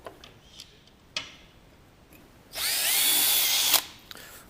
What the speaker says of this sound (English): I'll go ahead and finish installing the screws.